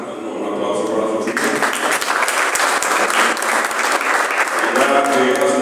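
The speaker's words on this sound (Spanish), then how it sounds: "un aplauso para Sofía." An audience at a Spanish-language poetry anthology presentation gives steady, fairly loud applause lasting several seconds, with no voices over it.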